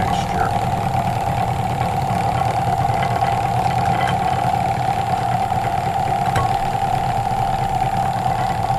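An electric mixer runs at low speed through cookie dough with a steady, even motor hum and whine, close and constant throughout.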